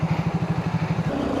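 A motorcycle engine thumps in a fast, regular pulse at close range during a bike ride, its low chugging rhythm steady before smoothing out toward the end, with no voices.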